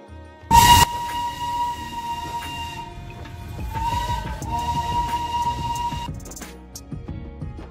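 Darjeeling Himalayan toy train rolling along with a steady rumble, a loud sharp burst near the start, and a sustained whistle-like tone running through most of the passage.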